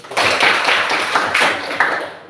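A vocational high school classroom of people clapping in a quick rhythmic pattern, bursts of hand claps repeating several times in unison, fairly loud and close.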